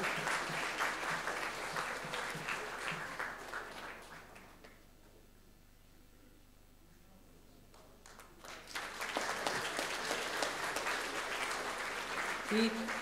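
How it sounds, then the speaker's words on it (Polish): Audience applause fills a theatre and film competition award ceremony, loud sustained clapping that fades to near quiet midway, then swells again into another round of clapping. "żebyście mogli bić brawo"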